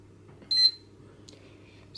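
A green 12-line 360-degree laser level, controlled from a smartphone, gives a short high electronic beep, followed by fainter chirps in a quiet room with a low steady hum.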